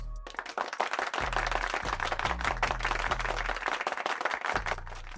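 Steady applause and clapping from a basketball crowd for Jabari Smith at a Rockets versus Wizards game, a dense, continuous patter carrying throughout over a low hum, with no talking.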